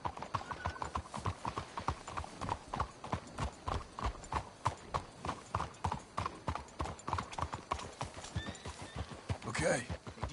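Horses' hooves clip-clop in a steady, even trot in Red Dead Redemption 2, close and continuous with a brief whinny near the end and faint voices talking underneath.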